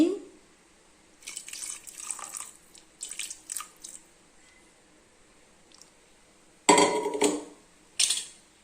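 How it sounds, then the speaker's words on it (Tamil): Water splashes and trickles in short bursts as a metal pressure cooker is rinsed, followed by louder pours and clinks, close and fairly quiet. "கொஞ்சம் குக்கரை கழுவி ஊற்றிக்கிறேங்க தண்ணி"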